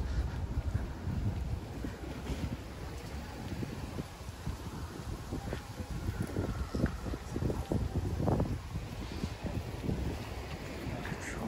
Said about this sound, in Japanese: ちょっと生ぬるい風が